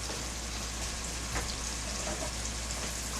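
Diced onion sizzling in a hot stew pot, a steady dense frying hiss heard close and alone, with a faint stirring scrape partway through.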